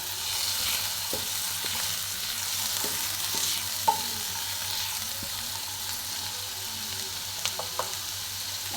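Mango pieces fry with onion in a pan over a low flame, giving a steady soft sizzle with the occasional light clink of stirring and no talk.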